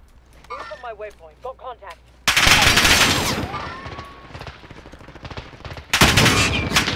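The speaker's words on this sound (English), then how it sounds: "That's a bullet. I'm taking fire." Rapid gunfire crackles in Call of Duty Warzone, loud bursts of automatic shots breaking in suddenly after a quieter stretch of short chirping sounds, then a second sharp burst near the end.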